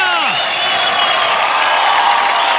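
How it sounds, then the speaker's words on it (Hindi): A crowd at an Indian talent show bursts into applause and cheering, a loud, continuous roar of clapping and voices with sustained tones running underneath for the whole stretch. "तालियां!"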